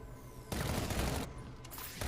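Rapid gunfire erupts in the video game Batman: Arkham Origins, after a quiet half-second lead-in: dense, continuous bursts of shots with a brief dip partway through before the shooting resumes.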